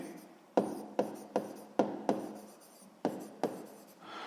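Pen strokes scratching on paper while a sixth-grade maths exercise is written out, about eight short separate strokes with brief pauses between them, close and fairly quiet, no voices.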